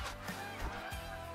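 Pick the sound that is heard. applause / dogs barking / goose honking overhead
goose honking overhead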